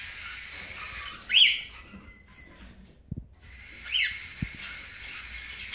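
Pet cockatiels, a lutino female and a yellow-cheeked harlequin male, give two short bright chirps a few seconds apart inside a cage, with soft clicks and quiet rustling in between.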